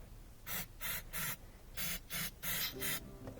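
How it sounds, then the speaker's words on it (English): Mass airflow sensor cleaner hisses from an aerosol can onto a GMC truck's sensor in seven short, sharp bursts of about a third of a second each, close and distinct, with brief pauses between them. "Just going to spray in here a little bit."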